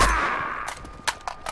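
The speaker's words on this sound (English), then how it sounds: "You hear gunshots" A few sharp gunfire bursts from the video game Uncharted 2: Among Thieves Remastered crack out over a steady electronic tone, spaced irregularly, with faint game-like ambience in between.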